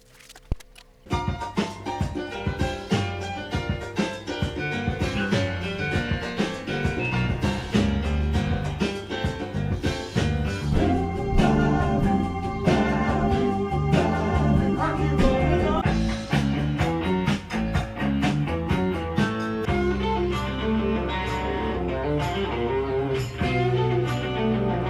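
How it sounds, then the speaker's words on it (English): The Doobie Brothers' 1978 album Minute by Minute plays from vinyl: full-band rock music with a steady groove, loud and continuous throughout after a brief quiet start, with no talking. "Today's album, though, is the Doobie Brothers' 1978 smash hit, Minute by Minute, and it sounds like this."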